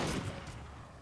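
A single shotgun blast in the game Werewolf: The Apocalypse – Earthblood, a fairly quiet boom that quickly trails off into a fading echo, with no voices.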